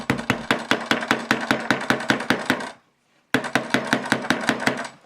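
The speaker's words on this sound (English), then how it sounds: "so again, use it as a hammer." A Nokia Lumia 920 smartphone is struck repeatedly like a hammer, giving a fast, steady run of sharp, close knocks that stop briefly and then resume at the same even pace.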